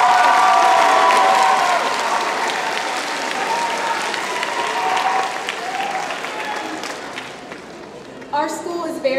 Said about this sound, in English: Can we give another big round of applause for our students?